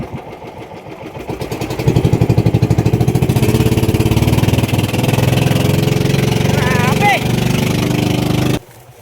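A fishing boat's engine runs steadily with a loud, continuous rhythmic chug near the microphone, then cuts out abruptly near the end; voices are heard over it.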